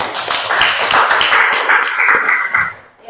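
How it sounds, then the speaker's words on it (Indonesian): A classroom of students claps together in a dense, fairly loud burst of hand claps lasting a few seconds, then fading out near the end, with no talking over it. "Tepuk tangan untuk semuanya."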